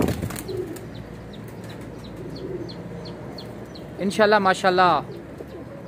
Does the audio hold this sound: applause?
no